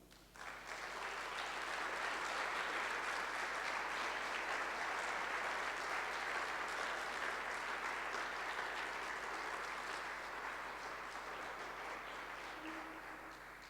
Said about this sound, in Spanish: ¿Por qué no le dais un aplauso al Señor?